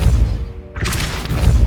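A Depulso force spell fires in Hogwarts Legacy, a sudden bright whooshing blast that cuts in partway through over a steady low rumble of game ambience.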